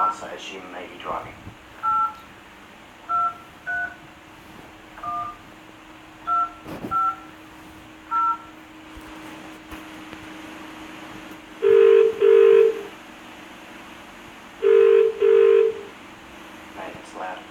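A run of short touch-tone keypad beeps dials a phone, followed by two paired ringback bursts, calling a person named Carol. The tones come through clearly with faint background hum and no talk.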